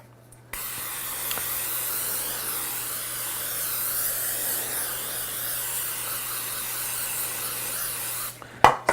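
Cooking spray hissed into a cake pan in a home kitchen, one steady, even spray lasting about eight seconds at close range, with a faint clatter as it stops.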